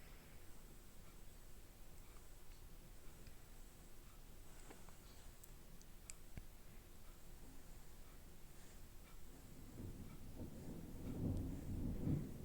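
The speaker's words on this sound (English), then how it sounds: "Oh boy, that's thunder." Distant thunder rumbles low and soft under steady rain, swelling into a louder, deeper roll over the last couple of seconds.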